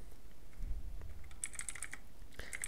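Quick light typing on a computer keyboard, a short burst of soft clicking keystrokes close by with no talking.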